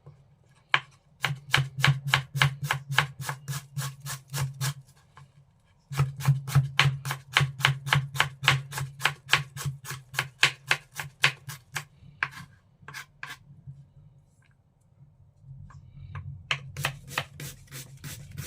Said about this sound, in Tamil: நீங்கள் வெங்காயத்தை எந்த அளவுக்கு நைஸாக வெட்டுறீங்களோ அந்த அளவுக்கு நல்லாயிருக்கும்